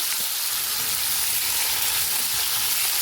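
Nugget-sized potato pieces fry in oil with cumin seeds and a pinch of hing, giving a loud, even sizzle that holds without pause.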